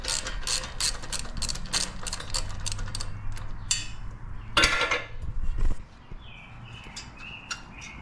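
Bolts being cracked loose on a Yamaha Raptor 700 ATV with a ratchet, rapid clicking bursts of the pawl in quick runs, close by, with a louder metallic clatter near the middle and quieter clicks after.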